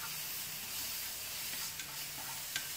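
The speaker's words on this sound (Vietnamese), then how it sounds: "Đảo qua chiên lên. Chiên lá chanh." Lime leaves frying in oil as they are stirred in a pan, giving a steady close sizzle and hiss throughout, with a few faint clinks near the end.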